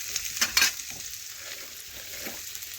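Thin, long potato strips frying in hot oil, a steady close sizzle with a couple of sharp clatters early on as they are stirred.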